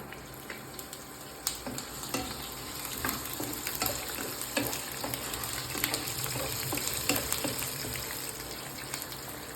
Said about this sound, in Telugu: రెండు వేయించేద్దాం